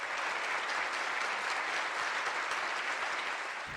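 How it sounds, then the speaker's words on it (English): Audience applause for panelists at the Global Business Summit 2025 in New Delhi, a smooth, dense, even wash of many hands clapping, held steady at a moderate, slightly distant level. "please join me in, again, thanking and as well as with a round of applause for the esteemed panelists"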